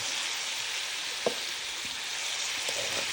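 Chayote stir-frying in a pan, a steady moderate sizzle with a few light clacks of a spatula against the pan, close and free of speech.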